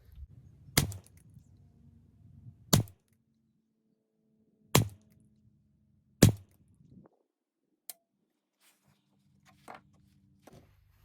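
Rimfire rifle shots crack out one at a time while a scope is zeroed for precision rimfire competition, about five sharp reports spaced a couple of seconds apart, with fainter clicks of rifle handling in between.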